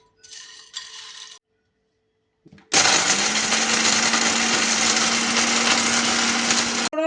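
Electric spice grinder grinding a mix of whole spices for Kabuli pulao: a short burst of whirring, then a pause, then a loud continuous motor roar with gritty rattling that holds steady for over four seconds.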